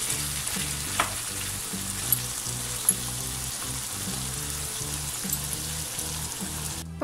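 Chicken fries in a pan with a steady, rain-like sizzle throughout, broken by a few soft clicks and taps.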